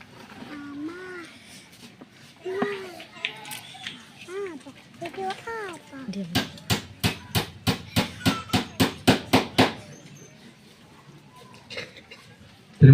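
Thirteen steady, evenly spaced hammer blows drive a nail into a coffin at a burial, loud and close, following a stretch of someone speaking over a hushed crowd.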